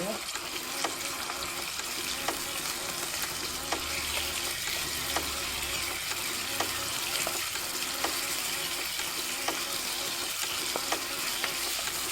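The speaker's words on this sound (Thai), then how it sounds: "ก็จะผัดหมูให้เขาสุกต้องให้เขาสุกก่อนนะคะหมู" Pork being stir-fried in a pan for a Thai kale dish, with steady loud sizzling and frying hiss throughout, punctuated by regular scraping and stirring clicks of the utensil against the pan.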